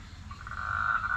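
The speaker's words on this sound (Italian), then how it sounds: "Abbiamo anche un rospo dietro casa" Toad croaking behind a house, a single drawn-out croak rising out of quiet evening ambience, moderately near and alone.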